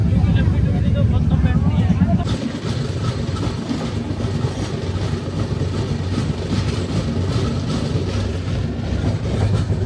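Steady rumble and rattle inside a moving general-class passenger train travelling from Faridabad to Ujjain, a continuous loud low drone with faint clacking, and people talking in the background throughout.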